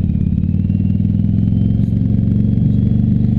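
A Yamaha Virago 750 motorcycle engine idles high and steady up close, a dense, even low rumble with rapid regular firing pulses and no change in pitch, heard alone.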